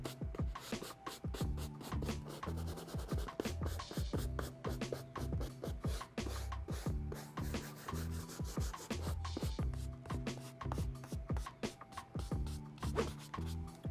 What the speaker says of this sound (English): all I gotta do is really dry brush, get off all this loose dirt that is just settled on the shoe